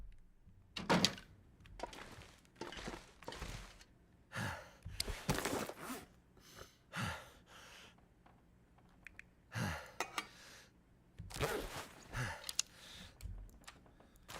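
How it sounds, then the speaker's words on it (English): Heavy panting and huffing from the player character in The Long Dark survival game, coming in repeated bursts of breaths with pauses between, fairly close, over a faint background and no talking. "Boy, he pants a lot, doesn't he?"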